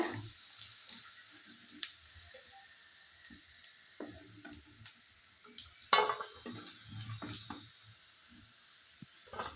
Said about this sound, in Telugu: చికెన్ అయితే బాగా ఫ్రై అయింది, ఎర్రగా బాగా ఇట్లా బాగా ఏమంటారు అది గట్టిగా క్రిస్పీగా ఫ్రై కావాలన్నమాట